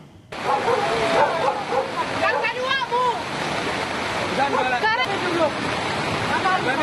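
Floodwater rushes in a steady, loud roar as it surges into a residential area in Tuka District, with a dog barking intermittently beneath the torrent.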